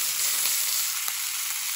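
Sockeye salmon fries skin side up in garlic butter, a steady, loud, close sizzle with no talking.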